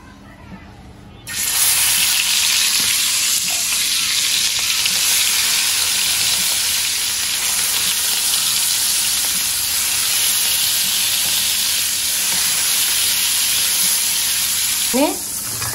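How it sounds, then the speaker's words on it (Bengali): Fish coated with turmeric, chilli and salt frying in a pan, a loud, dense, continuous hissing sizzle that starts abruptly and holds steady, close by with no voices. "মাছ ধুয়ে হলুদ মরিচ মেখে নিলাম আর লবণ, ফার্স্টে ভাজবো"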